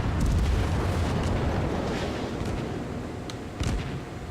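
Heavy naval gunfire in World of Warships, an exchange of broadsides with a battleship and a cruiser. Deep, rolling booms overlap into a loud, sustained rumble, with a fresh blast near the end.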